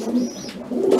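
Racing pigeons arriving at the loft after a speed race, cooing softly and close by in one brief murmur.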